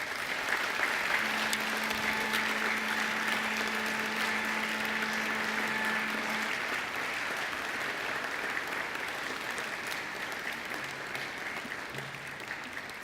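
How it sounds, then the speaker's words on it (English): Sustained applause from a large graduation-ceremony audience of families and friends fills a hall steadily and evenly, a dense wash of clapping that holds for the full stretch with a faint tonal hum underneath. "And now I invite you to give them a mighty round of applause."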